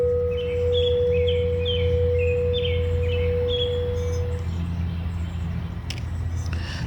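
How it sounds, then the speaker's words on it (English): Birds singing beside a lake in the morning, a string of repeated chirping phrases carrying over a steady low outdoor rumble and a long sustained tone, with no talking. "I'm listening to the birds."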